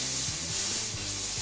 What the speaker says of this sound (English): steam the face a little bit